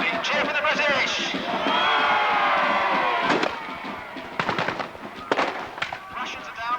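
A crowd at a Napoleonic battle re-enactment at Tilbury Fort raises a loud, sustained cheer for the British side, followed by scattered sharp bangs and shouting voices from the field.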